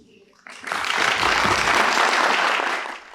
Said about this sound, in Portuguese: O público aplaude calorosamente a entrada de Fernando Gabeira no palco.